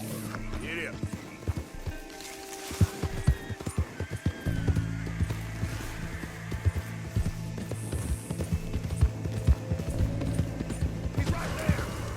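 Horse hooves clip-clopping and galloping in Red Dead Redemption 2, a brisk rhythmic pounding of hoofbeats over game ambience, with a voice talking over it.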